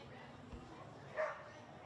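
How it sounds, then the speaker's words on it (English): Dogs bark beside a suburban football ground during a match: one short yapping bark stands out, faint and distant, under a commentator's voice and crowd ambience. "She comes down here and notices there's a lot of dogs."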